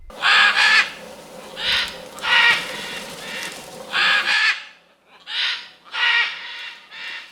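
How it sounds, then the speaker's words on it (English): Rescued scarlet macaws released into the wild above the Chiquibul forest, giving loud harsh raucous squawks in repeated bursts, close and clear with brief gaps between calls. "12 Scarlet Macaws were released into the wild after they were rescued as chicks 120 days ago"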